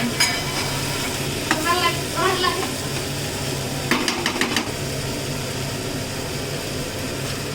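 Peas stirred and fried in a pan for dosa filling, a steady close sizzle with scraping strokes and a few quick clatters, brief talk heard early on.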